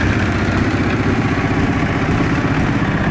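A Kawasaki ZX7R barn-find motorcycle, sitting unused for six months, runs at its first start-up with a loud, close, steady throbbing idle, no voices.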